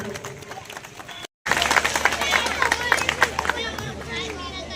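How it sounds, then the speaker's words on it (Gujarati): An audience at a school prize-giving ceremony breaks into loud sustained clapping and crowd noise for the children, starting abruptly after a brief silence, while a voice talks beforehand. "તમામ બાળકોને જોરદાર તાળીઓથી વધાવી લેવાનું"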